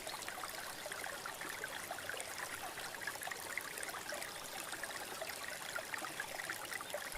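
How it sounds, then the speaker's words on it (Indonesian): A river stream flows steadily in a relaxing nature setting, a constant broadband rush and trickle of water that stays even and unbroken throughout, with no voices. "Dengerin aliran sungai ini."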